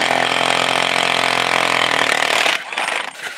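A Honda Vario 110 scooter engine with a juddering fault runs with a loud, rough, buzzing drone for a few seconds, then cuts off abruptly into uneven faint rattles.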